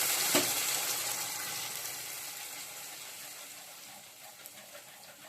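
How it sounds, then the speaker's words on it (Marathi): Gravy poured into hot oil for egg curry, a hiss of sizzling that flares at the start then settles into a quieter, steady frying crackle. "तर तेल थोडं गरम झालंय तर त्याच्यामध्ये आपण जी ग्रेव्ही बनवली होती ती टाकायची पण सावकाश टाकायची जरा उडू शकते"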